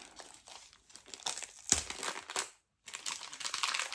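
Paper crinkles and crumples in bursts while diamond painting canvases are unpacked, close and fairly quiet, with a brief silent gap partway through.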